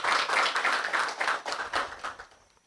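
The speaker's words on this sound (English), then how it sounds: "Let's give that a round of applause" A small crowd claps at the official launch and press briefing of a plastic-bottle-saving school project, with a dense patter of hand claps that holds steady, then thins and fades out near the end.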